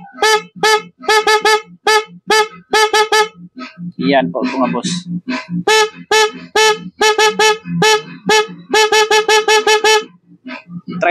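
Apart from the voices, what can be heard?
Makoto motorcycle horn, low tone 400 Hz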